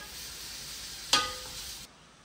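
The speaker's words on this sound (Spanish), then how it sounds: "vamos a freír la carne" Meat fries in a pan: a steady hiss of sizzling fat, broken by one sharp crackling burst as something is stirred or added, before the sound cuts off abruptly.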